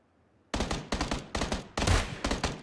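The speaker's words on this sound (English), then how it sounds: "Yeah, I got shot, Earth." Gunfire in PlayerUnknown's Battlegrounds: loud, close bursts of rapid automatic shots in several rhythmic volleys, each sharp crack followed by a short decay, with no talk.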